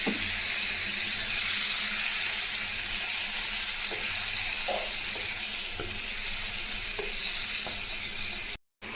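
Cut potatoes dropped into hot oil in a pan give a loud, steady close-up sizzle, with occasional small pops and scrapes of stirring, and no voices, until a sudden brief cut near the end.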